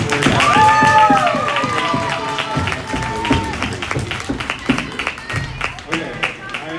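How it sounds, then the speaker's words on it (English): Scattered clapping from a crowd at a youth 12U hockey game, under cheering and voices, starting loud and thinning out toward the end. "huge round of applause for both teams"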